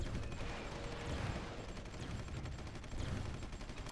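Tanks in a strategy video game fire on enemy artillery and mortars, producing a faint, continuous rattle of gunfire and fusillade bursts with low rumbling booms underneath, and no one talking.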